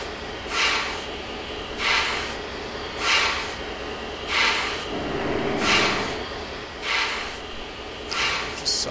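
A steam locomotive in a train simulator game backs slowly onto a turntable, with a low rolling rumble under rhythmic chuffs that repeat roughly every second and a quarter, each a soft hissing puff.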